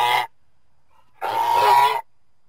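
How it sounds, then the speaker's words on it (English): Two honks from a goose, a short one at the start and a longer, louder call after a pause of silence, each clear and close. "Goose."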